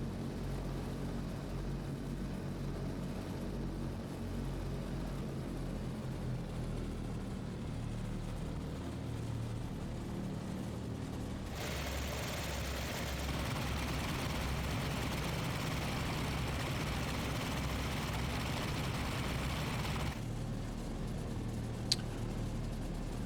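A simulated aircraft engine idles at about 1000 RPM during warm-up in Microsoft Flight Simulator, with a steady low drone and a brighter broadband rush joining midway, no voices.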